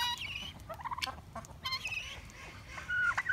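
Farm chickens and game birds, seramas and moderns, cluck and squawk in a flurry of short, sharp calls and gobbling bursts, close and fairly loud, with no talking.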